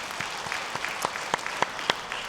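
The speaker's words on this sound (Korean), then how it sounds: "박수로 영광 올려드리겠습니다." A church congregation applauds after Sunday worship, a soft, sparse patter of hand claps with a few sharper individual claps standing out, fairly quiet and brief.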